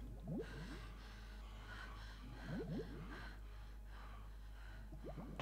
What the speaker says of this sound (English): I can hear them breathing, so they're alive.